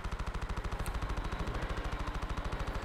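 Turret guns blaze during a space battle in Star Wars Battlefront 2, a rapid, perfectly even stream of blaster-like shots repeating roughly ten times a second, steady and moderately loud with no voices.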